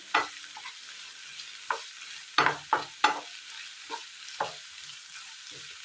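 Tapioca Manchurian sautéed in a pan, with a faint frying hiss under repeated scraping strokes of a spatula at an uneven rhythm.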